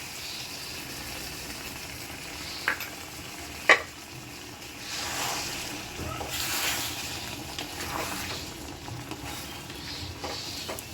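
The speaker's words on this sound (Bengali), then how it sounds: "এখন আমি এতে দুধটা দিয়ে দিচ্ছি" Milk goes into a hot kadai for a prawn dish. It gives a soft, bubbling sizzle with a sharp knock or two early on, then a swell of hissing and light stirring scrapes.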